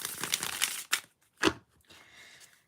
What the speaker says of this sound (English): A good old riffle shuffle.